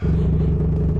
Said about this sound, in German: Aber ich würde dem Besitzer mal empfehlen, den Auspuff zu reparieren. Der ist ja mal sowas von laut.